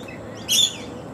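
A mixed flock of wild suburban birds roosting in a tree in Australia, heard as one short, bright burst of chirping midway through, standing out over a steady low background hum.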